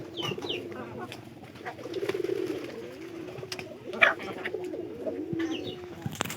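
Pigeons coo in a low, repeated murmur through a loft where chickens are also kept, a steady layered burble with a brief sharper call near the middle and a few faint chirps.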